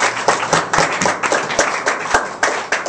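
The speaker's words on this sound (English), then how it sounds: "Clapping for you." Steady applause from a congregation at Mass, many hands clapping briskly and fairly close for three seconds without pause.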